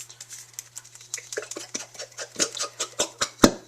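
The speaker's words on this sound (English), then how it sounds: "We're going to put that soup in the big bowl." Canned soup plops from the can into a big bowl as a steady run of close, wet, squelchy pats that grow louder toward the end.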